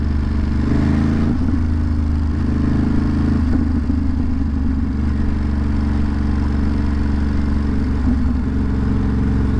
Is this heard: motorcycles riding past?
yes